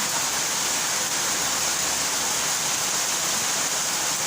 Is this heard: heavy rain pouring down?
yes